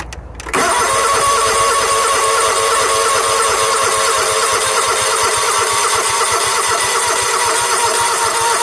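A John Deere LX277 lawn tractor that has sat unused in a shed fires up after a brief crank, then its engine runs loud and steady under throttle, close by.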